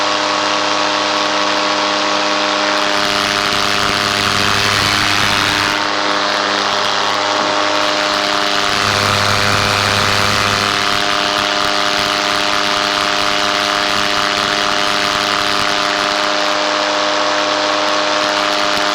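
A paramotor engine idles steadily on the ground, a loud continuous droning hum with a slight wavering in pitch throughout.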